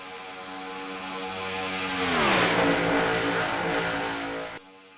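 Race cars in the Pumpkin 250 short-track race roar past, engines rising to a loud peak then dropping in pitch as the pack moves away, with no voice over the pass.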